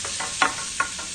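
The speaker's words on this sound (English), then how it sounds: "The sizzling." Brief bursts of hissing sizzle in a pan while cooking spaghetti carbonara, with a few soft stirring scrapes, close and faint.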